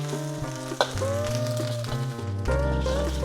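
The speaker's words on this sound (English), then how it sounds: "Frying my spice paste. That's the lemongrass mixed with toasted belachan and the chilli." Spice paste of lemongrass, toasted belachan and chilli frying in a hot pan for a coconut prawn curry, a steady close sizzle with crackling pops and occasional stirring scrapes, loudening near the end.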